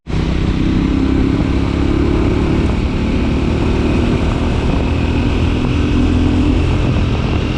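A Triumph Scrambler 400X motorcycle runs through a double lane change test, its engine droning loud and steady throughout with wind rush, close and continuous with no talking.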